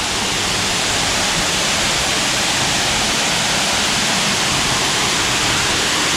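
Nariyampara triple waterfall roars as a loud, steady wash of falling water, dense and unbroken throughout with no voices.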